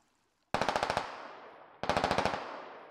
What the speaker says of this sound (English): Shots ring out.